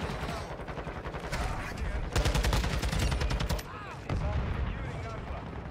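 Rapid automatic rifle fire from a TAQ-56 in the shooter game Modern Warfare 2, loud bursts with a dense stretch in the middle and a brief pause before firing resumes, while a player talks over it.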